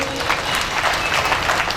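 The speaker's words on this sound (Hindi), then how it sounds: "फिर तो ताली बजाए जोर से" Loud, dense clapping from a seated audience at a Brahma Kumaris stress-relief camp in Munger, Bihar, a steady continuous burst of applause with no gaps.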